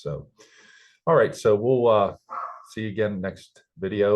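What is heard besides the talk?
dog barking in the background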